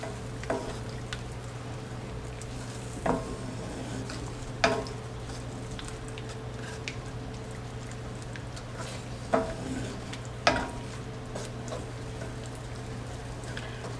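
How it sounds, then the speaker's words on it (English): Onion gravy simmers softly in a pan while it is stirred, a faint steady bubbling hiss with occasional light scrapes and taps of the spoon against the pan. "Just take your time and stir, and it will thicken up."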